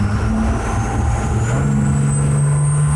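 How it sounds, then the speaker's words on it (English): Cummins compound-turbo diesel swapped into a Chevy squarebody truck, floored at full throttle: a loud, steady engine roar with a low droning tone that climbs in pitch partway through, alongside a rising turbo whine. "Let me floor it and see what the EGTs look like."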